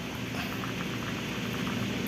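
A pot of coconut milk bubbles and simmers steadily up close, with a dense, continuous crackle of boiling liquid.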